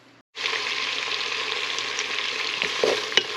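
Melted butter sizzles loudly and steadily in a pan as onion is sautéed, a close, continuous frying hiss with a few small pops and clinks toward the end.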